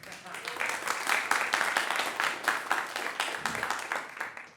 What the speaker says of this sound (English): yes, can we get a round of applause?